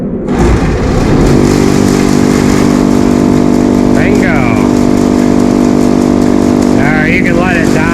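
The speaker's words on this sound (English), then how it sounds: "There goes the auger." A motor-driven auger runs with a loud, steady, close engine hum and drone throughout, while people talk briefly over it.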